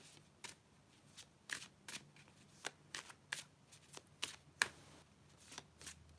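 Tarot cards are shuffled and drawn up close, quiet crisp riffles and flicks coming in irregular bursts, with no talking.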